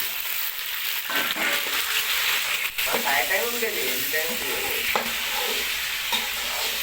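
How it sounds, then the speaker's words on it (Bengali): Mixed vegetables, capsicum, radish and eggplant among them, are added to browned onions and stirred in a frying pan. A loud, continuous sizzle carries repeated spatula scrapes and clatters close by. "একটু নেড়ে চেড়ে নিতে হবে। আমাদের পেঁয়াজ ব্রাউন হয়ে এসছে, এবার আমরা সব সবজি দিয়ে নিচ্ছি।"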